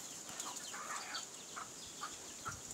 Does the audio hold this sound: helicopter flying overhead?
no